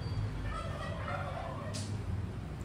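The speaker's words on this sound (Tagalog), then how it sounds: "Agrit ang gansa" A goose honks faintly in the distance, short throaty calls barely standing out from a quiet background hiss.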